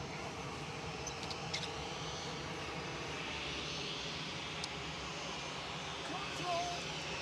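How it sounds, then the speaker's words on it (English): An Antonov An-124 Ruslan passes overhead at about 28,000 feet, a faint, distant, steady jet rumble near Manchester Airport with faint outdoor background noise. "Antonov AN124 Ruslan going over"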